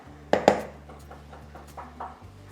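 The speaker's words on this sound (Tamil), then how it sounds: "இப்போ நான் பிளேட்டுக்கு மாற்றிட்டு உங்களுக்கு சாப்பிட்டு காட்டுறேன்" Cooked rice is moved onto a plate with metal utensils: two sharp clinks close together, then softer scraping and tapping, with no talk.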